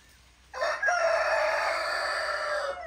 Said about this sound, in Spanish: El gallo ahí.